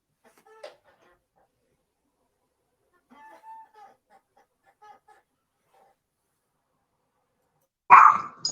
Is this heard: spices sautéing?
no